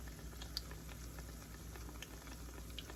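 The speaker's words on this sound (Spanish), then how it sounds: "Le agregué suficiente aceite para freírlos. Los vamos a poner ya a freír." Chicken empanadas frying in a pot of hot oil give a faint, steady crackling sizzle with small scattered pops, quiet and close, with no talking.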